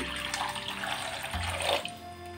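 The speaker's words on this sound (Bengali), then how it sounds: "এই বাটিটার মধ্যে আমি খানিকটা জল দিয়ে দিচ্ছি" Tap water runs steadily into a bowl in a kitchen, a continuous splashing stream that shifts in tone partway through as the bowl fills, with no voices.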